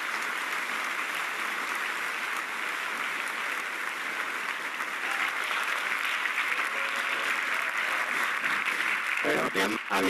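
Audience applause from a played TED talk, loud, steady clapping throughout, fading near the end.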